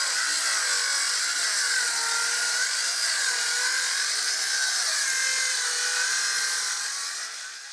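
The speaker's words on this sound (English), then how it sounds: "Cutting timber to the required size." Timber being cut to size with a power saw, a steady close whine that holds level throughout and fades slightly at the very end.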